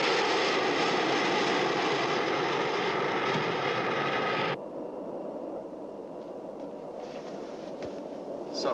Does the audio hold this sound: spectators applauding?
no